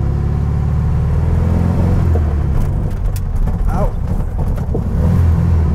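A 1968 Volkswagen Beetle, an old barn find, is driven fast over a ditch, its air-cooled engine revving and rumbling loudly with jolts and clunks midway while people talk over it.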